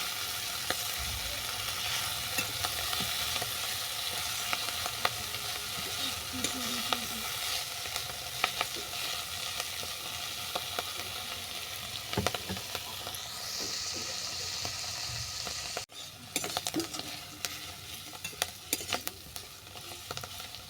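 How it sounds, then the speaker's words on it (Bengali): Barma greens fry with whole spices in a pan, giving a continuous close sizzle broken by frequent spatula stirs and clinks across the whole stretch, with a brief dropout near the end and no talking. "সমস্ত উপকরণের সঙ্গে শাকটা দু মিনিট ভাজা হয়ে গেছে"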